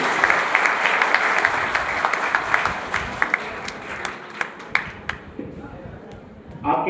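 Audience applause at a youth gathering, a dense steady clapping that thins into scattered individual claps before fading, with a host speaking over it.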